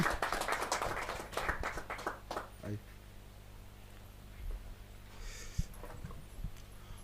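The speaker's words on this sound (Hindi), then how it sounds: "जोर तालियां बजाते रहो भाई" An audience at a kavi sammelan claps in a dense burst for about two seconds, then the applause thins to a few scattered claps and taps in a quieter hall.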